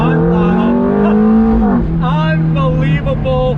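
A 2005 Ferrari F430 Spider engine roars close by, revving high and shifting gears as it accelerates hard, with a loud continuous growl throughout.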